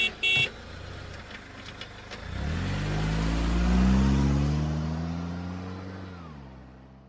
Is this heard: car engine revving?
yes